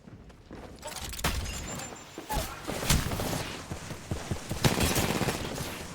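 Dense gunfire from an Apex Legends team fight, rapid overlapping shots and bursts with sharp cracks throughout, loud and continuous with footsteps and game effects mixed in.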